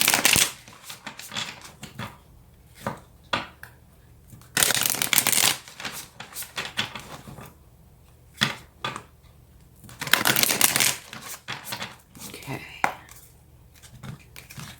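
Tarot cards are shuffled and drawn in repeated bursts of papery riffling and slapping, broken by quieter pauses, with soft talking faintly in the background.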